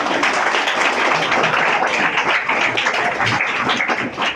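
An audience at a Guru Purnima gathering claps together, a dense, continuous ripple of applause that holds steady throughout before thinning slightly at the end.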